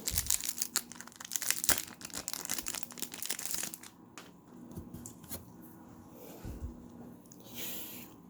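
Plastic wrapper crinkling and tearing open on a Vanguard overDress starter deck, loud close crumpling for the first few seconds, then quieter intermittent rustles of the plastic.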